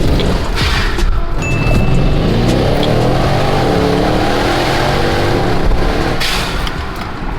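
A Tesla Model Y roars loudly and continuously after a tune, revving hard as it accelerates, heard up close with no one speaking.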